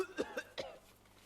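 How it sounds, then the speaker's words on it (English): A character in the game Project Zomboid coughs three times in quick succession, short rough bursts close to the mic, trailing into quiet background ambience. "And I got a cough."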